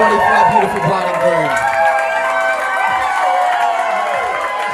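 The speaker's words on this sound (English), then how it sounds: "Round of applause, everybody, for our beautiful bride and" Wedding guests applauding and cheering for the bride and groom, a loud crowd of voices and whoops over clapping, with talk and shouts throughout.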